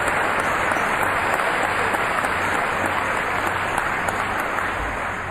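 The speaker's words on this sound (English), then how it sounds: "Yes, please clap for them." A Basketball Hall of Fame induction crowd breaks into loud, dense, continuous applause that fills the hall evenly, with no voices over it.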